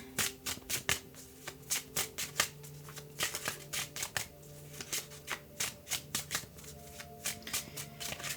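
Tarot cards being shuffled in quick rhythmic riffles, a run of crisp repeated flutters close to the microphone with no talk.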